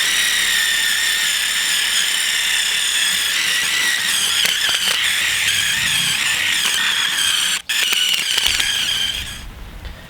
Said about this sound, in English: you can put your drill and your wire wheel aside